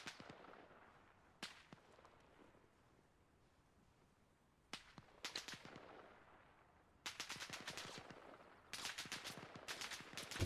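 Gunfire in ArmA Reforger on the island of Kolguyev, with scattered single cracks giving way to quick rattling bursts from off to one side, fairly distant and faint, with no talking.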